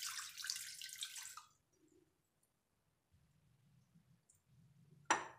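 Tap water pours into a bowl in a home kitchen for kneading flatbread dough, a steady close splashing stream for about a second and a half, then quiet handling noises and a brief sharp clatter.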